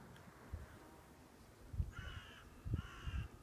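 Crows cawing in two short bursts of harsh repeated calls at moderate distance on an open fell near Helm Crag in the Lake District, with wind rumble and faint handling noise underneath.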